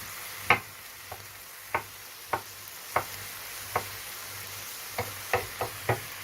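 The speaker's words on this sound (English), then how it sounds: "we're going to be frying these up as well, because we want them to reduce before we put them in the main dish" Ingredients for beef mince chilli frying in a pan, a steady soft sizzle with regular knocks of a spoon or spatula against the pan about every half second, close and moderately loud.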